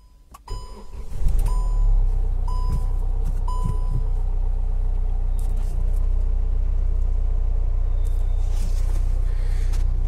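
Warning chimes ring a few times before a Hyundai i20's engine cranks and settles into a steady, close idle rumble after a clutch set replacement.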